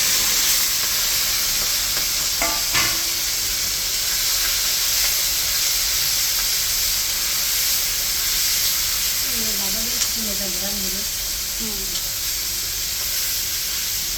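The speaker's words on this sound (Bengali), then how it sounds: "তেলটা গরম হয়ে গেছে, চিংড়ি মাছ দিয়ে দিলাম।" River prawns sizzling in hot oil, a loud continuous hiss and spatter close by for the whole stretch, with a brief clatter early and a voice murmuring faintly near the end.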